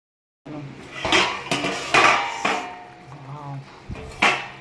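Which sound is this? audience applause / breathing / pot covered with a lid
pot covered with a lid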